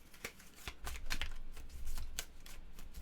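A deck of playing cards shuffled by hand at a tabletop board game, a quiet close run of crisp riffling flutters and soft snaps repeating over a few seconds.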